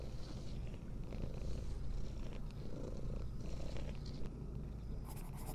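A cat purrs in the video game Pieces of Me, a steady low rumbling purr running continuously and fairly close, with faint game ambience around it and no talking.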